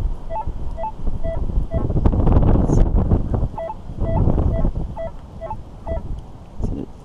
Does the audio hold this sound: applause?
no